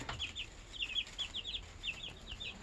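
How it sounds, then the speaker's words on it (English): Newly hatched chicks in a barn peep steadily, their high, bright calls coming in quick clusters at close range over a low background hum, with no one talking. "Little chicks."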